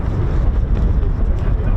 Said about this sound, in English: it's a bit too windy, Ted.